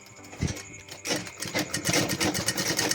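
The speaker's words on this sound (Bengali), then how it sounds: "এইভাবে আস্তে আস্তে সেলাই করে নিতে হবে।" A sewing machine stitches slowly through petticoat fabric, a brief whir, a pause, then a rapid, close rhythmic clatter of the needle running for the last two seconds.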